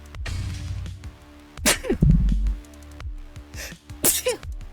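A sneeze bursts out near the mic partway through, with a second sharp exhalation later, amid short bits of movement and low rumble.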